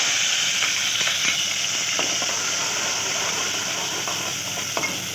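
Cumin seeds, tomatoes and green chillies sizzle in hot oil, a dense, steady, close frying hiss with faint stirring scrapes running throughout.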